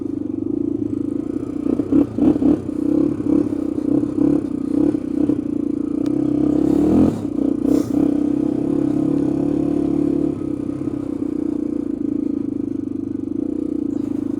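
A Honda 350x motorcycle on a test ride, its engine droning steadily and loud up close, with rising throttle bursts, clattering and a brief scraping rush midway.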